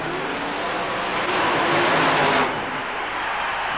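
A super modified mud racing car at Tampa Stadium in 1991 roars through a run, its engine noise swelling loud and then easing back off as it slows.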